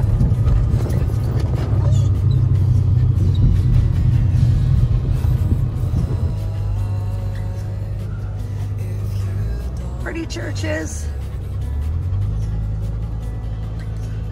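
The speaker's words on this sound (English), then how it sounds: "And lots of traffic because it's Friday." Friday street traffic passes close by, a loud steady rumble of car engines with a brief horse-hoof-like clatter, and a person speaks briefly over it.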